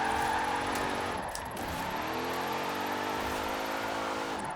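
Dodge Durango engine in Forza Horizon 4, drifting in fourth gear, a droning harmonic engine note that dips briefly then climbs steadily in pitch as revs build, loud and continuous.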